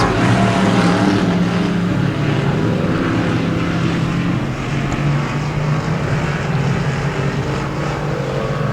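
Dirt track race cars at Genesee Sportsman roar together in a heat race, a loud, steady engine drone that holds without a break throughout.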